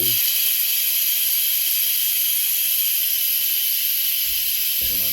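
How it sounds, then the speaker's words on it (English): Steam vents continuously from a Cosori pressure cooker after cooking frozen spare ribs and savoury rice, a loud, steady, close hiss with no break. "I'm going to release the steam now"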